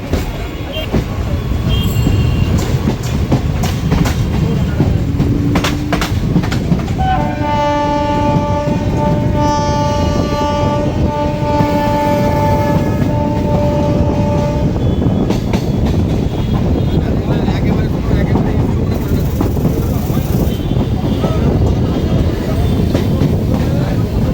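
An Indian Railways Ranaghat–Gede local train rumbles along loudly and steadily from the inside, wheels clattering over the track, with a sustained horn blast partway through.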